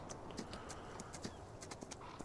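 Horses at the paddock in Farming Simulator 19 walk with irregular hoof clip-clops, several hooves striking in quick uneven succession, soft and fairly quiet over a low background hush.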